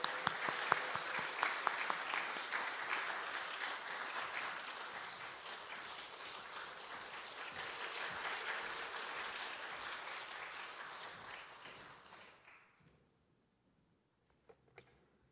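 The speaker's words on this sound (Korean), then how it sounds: "여러분 우리 협성대학교 총장님 성명수 교수님 앞으로 모실 때 큰 박수로 함께 하도록 하겠습니다." Sustained applause from a church congregation welcoming a university president, steady and dense for about twelve seconds before fading out into near silence.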